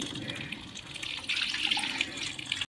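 Water rinsed from a spice container pours into a clay handi of chicken, a steady splashing, gurgling stream up close for a few seconds before stopping abruptly.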